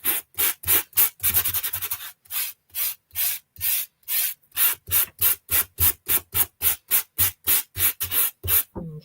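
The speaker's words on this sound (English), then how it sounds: "along the edges that were raised, it's just scuffing the color off a bit and revealing that white inside" Rapid rough rubbing strokes scuffing colour off the raised edges of a handmade card, a steady run of about twenty-five close, loud swipes with short gaps between them and a quicker burst near the start.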